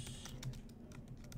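Quiet, rapid keystrokes on a computer keyboard as code is typed, a short run of soft, close clicks.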